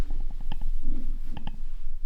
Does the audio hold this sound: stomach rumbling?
yes